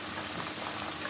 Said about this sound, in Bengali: এখন দিচ্ছি রসুন বাটা